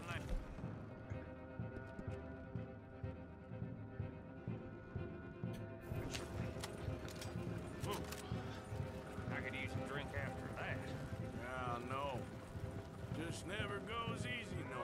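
Galloping horse hooves in the Western video game Red Dead Redemption 2, a steady rapid clip-clop running throughout under game music, effects and a talking voice.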